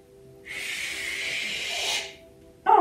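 A child imitates an angry cat hissing during a kids' yoga pose, one sustained breathy hiss lasting about a second and a half, followed by a short louder vocal burst at the end.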